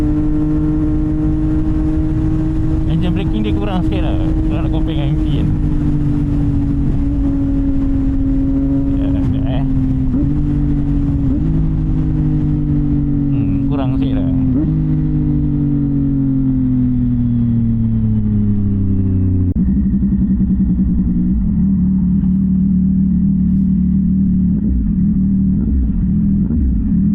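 A CFMOTO 675 NK 2025 motorcycle engine hums steadily while riding, its pitch rising and then easing down as the revs change, with a dip around the midpoint and a lower idle-like drone toward the end. There is no talking.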